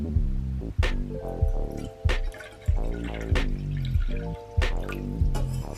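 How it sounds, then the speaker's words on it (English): Water is measured out and poured into a cup for flaxseed gel, with a series of distinct splashy drips and pours. Each one is close and clear against a background of pitched musical tones, and no one speaks. "Now you need to measure out 2 cups of water."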